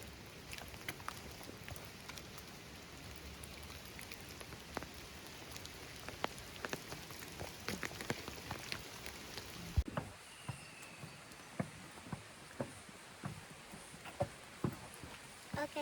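Rain falling in the Toolangi rainforest, a faint steady patter with scattered louder drips hitting nearby surfaces, soft and continuous throughout.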